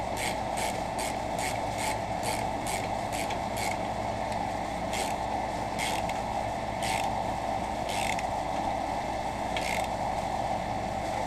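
A ratchet turning bolts on a mower engine gives quick runs of close, sharp clicking, first in a rapid series and then in slower separated bursts, over a constant background hum.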